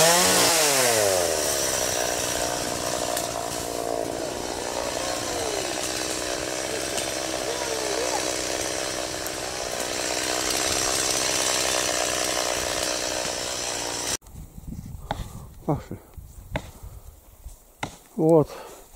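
A chainsaw cuts down trees beside a blind road bend, running loud and unbroken for most of the stretch, then dropping to quieter knocks and short bursts near the end.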